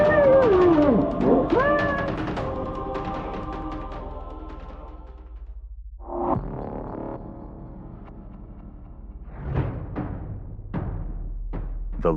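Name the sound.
lion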